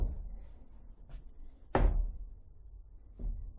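A sliding barn door on the pantry of a Clayton Homes The Breeze house slides open and lands one sharp, heavy thud at close range, followed by a softer bump, with low room rumble throughout.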